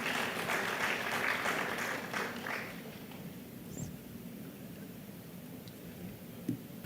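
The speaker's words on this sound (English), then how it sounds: "Let's give him a round of applause, please." Audience applause at an air cargo conference in India, a broad crackling wash of clapping that is strongest at first and then thins to a scattered, fading patter.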